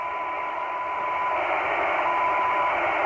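Hiss-filled VHF/UHF DMR walkie-talkie radio signal from a Blackview XPLORE1 handset, a steady band of static with a faint continuous tone running through it, held at a constant level for about three seconds with no voices.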